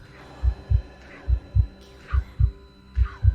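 A steady heartbeat thumps in paired beats, four double pulses at an even rhythm, close and loud over a faint low hum, with no talking.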